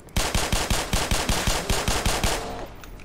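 Rapid automatic gunfire in the video game Black Mesa, about fifteen punchy shots in an even rhythm, close and loud, then a fading ring-out.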